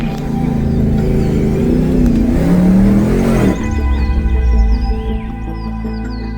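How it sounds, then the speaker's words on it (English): A petrol Toyota 80 series 4WD climbs a hill on a Cape York track, its engine droning loud and close with a rising strain before the revs drop and settle into a smoother, lower hum. "he's the only petrol vehicle in the convoy and looks to be breezing up this hill"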